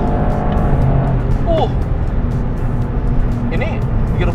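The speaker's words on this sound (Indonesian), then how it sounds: "sekarang kita coba pull pakai manual shiftingnya" A 2025 Toyota GR Yaris facelift pulls hard under acceleration with manual shifting, its engine rising loud and close beneath an Indonesian voice speaking throughout.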